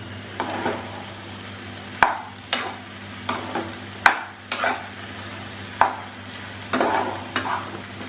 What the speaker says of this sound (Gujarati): સારી રીતે મિક્સ કરી લઈશું